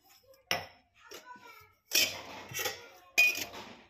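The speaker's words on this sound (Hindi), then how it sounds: "बर्तन वगैरह भी रख दिए उत्ते।" Metal utensils, glasses and dishes set down on a pressing table in a home, giving four or five sharp clinks and clatters spaced apart, close and fairly quiet.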